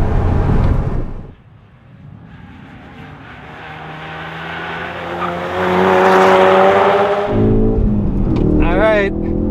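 A car engine on a race track warm-up lap drones and climbs in pitch as it revs, growing louder toward the end, with a brief squealing tone at the close.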